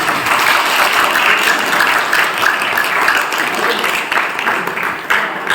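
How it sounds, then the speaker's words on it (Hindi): Raised-hand clapping from an audience at a Brahma Kumaris Mahashivratri festival gathering, a loud, dense, continuous round of applause that keeps an even level throughout. "एक बार मुस्कुरा के जोरदार ताली, हाथ ऊपर करके ताली"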